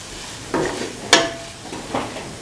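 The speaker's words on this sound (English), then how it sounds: "keep on sauteing." Cauliflower and potato rice being sautéed in a pan gives off a quiet, steady sizzle. A few distinct scrapes and stirs of a spoon break through it at regular intervals.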